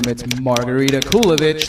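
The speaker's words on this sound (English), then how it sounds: "that sound is a typewriter" A typewriter clatters in quick, sharp key strikes, a rapid rhythmic tapping mixed under someone speaking loudly into a microphone.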